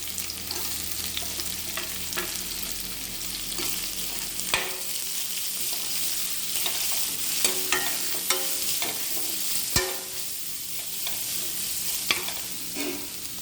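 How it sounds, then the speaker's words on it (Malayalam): Finely chopped onion with garlic and chili powder frying in a pan, stirred with repeated scraping strokes over a constant close sizzle. "ഉള്ളി ഒന്ന് ഇളക്കി മിക്സ് ചെയ്ത്"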